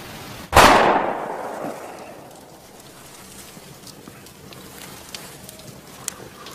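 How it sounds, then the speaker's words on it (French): A single sharp gunshot cracks out nearby in a wartime setting, its report echoing and fading over about a second before quiet ambience with faint scattered ticks returns. "C'était quoi ces coups de feu?"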